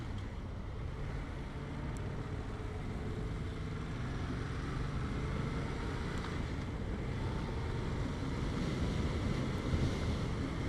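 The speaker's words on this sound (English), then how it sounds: "a bit of a wind blast actually, so what was that like for the audio?" Wind blasts against a microphone outdoors in a steady, heavy low rumble that barely changes across the stretch, with no speech.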